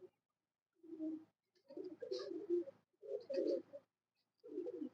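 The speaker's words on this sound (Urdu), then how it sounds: "یہ استاد جی کے بریڈر کبوتر ہیں" Breeder pigeons in a loft give soft, close cooing calls in four or five separate rolling bursts with quiet gaps between them.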